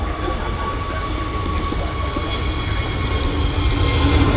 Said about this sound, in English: the EasyJet that's departing is of course the 320neo, hence how quiet it is